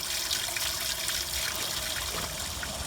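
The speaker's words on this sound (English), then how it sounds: "let the block fill up with water, and then once it's full, I'll take my hand off and let it drain out any rubbish" Water drains steadily from a pipe on a Ford Model T engine block during radiator replacement, a continuous close gushing trickle without pause or voices.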